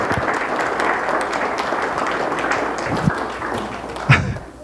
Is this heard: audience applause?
yes